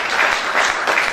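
Brief burst of audience applause at a book presentation event, close, dense clapping from a room of people with a slightly pulsing rhythm.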